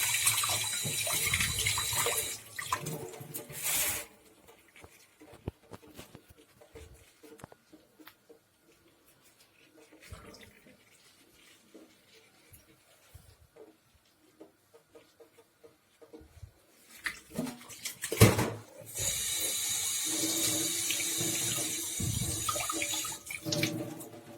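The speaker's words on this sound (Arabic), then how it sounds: "نكتب شويه د المية" Tap water runs into a sink to wash sardines for a sardine kofta tagine, gushing loudly at the start, dropping to a quiet stretch of faint clatter, then flowing strongly again near the end.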